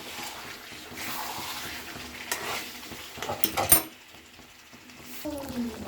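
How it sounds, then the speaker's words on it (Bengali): A spoon stirs tomato into an egg and potato gravy in a pan, with soft scraping and a low simmering sizzle, a few louder clinks of utensil against the pan, and a brief voice near the end. "তাও আমি একটু নাড়িয়ে চাড়িয়ে নিচ্ছি"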